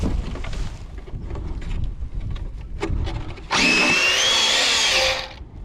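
After a crash, the motor of an Arrma Infraction V2 RC car is revved in one loud, close burst of high electric whine with a rising pitch, following a stretch of rustling handling noise.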